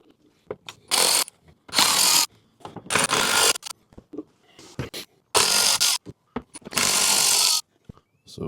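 Ratchet working T25 Torx screws out of the under tray of a VW Golf GTD Mk7.5, heard as bursts of close, buzzy ratcheting lasting about half a second each, separated by small clicks and handling knocks.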